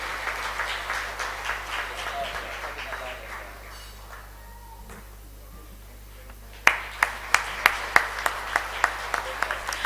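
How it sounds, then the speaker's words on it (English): Audience at the Velosi Middle East ISO 17020 launch celebration claps in a fading wash that thins to near quiet, then breaks into sharp, spaced individual claps growing steadier toward the end, with faint voices underneath. "So I think we should give a better applause than that."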